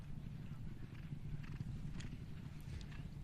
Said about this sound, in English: Spins the horse around, and Kennedy comes behind him